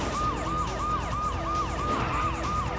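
A police car siren in the video game Die Hard Trilogy wails in a fast repeating up-and-down cycle, loud and close, over a dense layer of engine and game noise.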